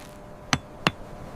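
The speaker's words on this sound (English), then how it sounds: "Hope died with each swing of the hammer, yet the hammering never stopped." A hammer striking stone in a quarry lands two sharp, close, hard blows about a third of a second apart against a faint, quiet background.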